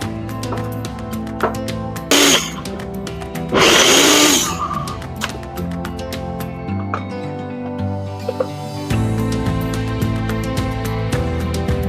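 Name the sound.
mixer grinder blending chopped onions and garlic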